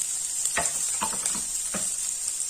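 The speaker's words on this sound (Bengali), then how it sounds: "তো তেলটা ভালো করে গরম হয়ে গেলে তারপর আমরা দিচ্ছি এখন রসুন কুচি, রসুন আর আদা কুচি কুচি করে কেটে নেওয়া আছে" Chopped garlic and ginger sizzle steadily in hot oil, a bright continuous hiss with a few soft stirring knocks against the pan, close and alone with no talk.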